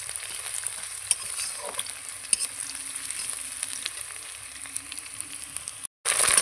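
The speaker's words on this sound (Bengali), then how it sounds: "গাজর কুচিয়ে রেখেছিলাম, এটা এর মধ্যে দিয়ে দেবো, একবারে ভাজা হয়ে যাবে" Chopped carrot frying in a pan, a low steady sizzle with occasional stirring clicks and scrapes, fairly quiet and close, ending with a brief cut and a louder burst.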